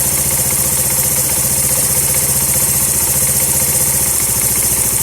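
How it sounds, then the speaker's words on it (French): A small Mash 75 motorcycle engine idles steadily up close after a mixture adjustment, a loud, even putter with a faint mechanical clatter throughout. "Là le moteur réagit bien."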